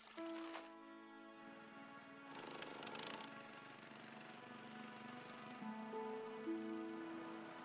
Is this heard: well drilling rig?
yes